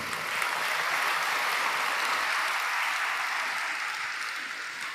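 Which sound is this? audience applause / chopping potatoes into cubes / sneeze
audience applause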